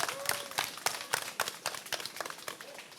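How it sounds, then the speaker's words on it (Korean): An audience at a temple concert and lecture claps in a loose, uneven burst of applause welcoming a pansori singer, crisp and fairly close, thinning out toward the end. "뜨거운 박수로 환영해 주시기 바랍니다."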